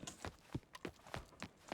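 Horse hooves clip-clop in a Wild West roleplay video game, a steady walking rhythm of distinct hoof strikes, close and moderately loud with no talking.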